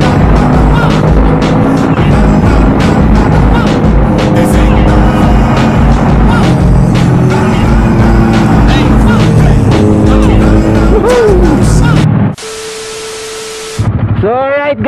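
Motorcycle riding along the NLEX expressway in the Philippines, a loud steady engine and wind roar with harmonic whine shifting pitch, cutting out abruptly near the end before a brief hiss and return.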